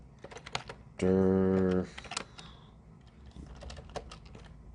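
Rapid clicks on a computer keyboard as a security-tool command is entered, scattered close keystrokes with a loud sustained electronic tone partway through and a brief spoken word.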